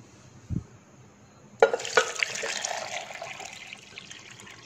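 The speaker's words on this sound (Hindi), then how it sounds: "अब इसमें दोस्तों पानी ऐड करेंगे।" Water poured from a vessel into a bowl of squeezed jamun (Java plum) juice, a steady splashing flow that starts abruptly and keeps running close by, with no talking over it.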